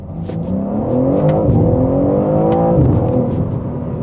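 A BMW M3 Competition xDrive with four-wheel drive pulls hard in first gear, its engine note climbing steadily in a loud, continuous rising roar with a brief dip midway before it climbs again, close and without talk.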